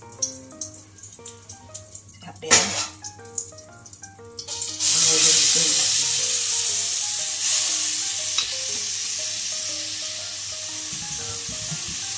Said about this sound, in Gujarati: એને ધીમે ધીમે હલાવતું રહેવું।